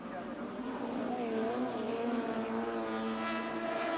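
Ford Anglia and Mini saloon cars race at Crystal Palace circuit as engines whine and drone at high revs, pitch rising and shifting through the corner, with a commentator talking over the steady, somewhat distant racket.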